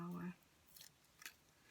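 Scissors snip through the paper backing on a foam sheet while making an Easter card: two short, crisp cuts after a brief spoken phrase at the start, close and clear in a quiet room.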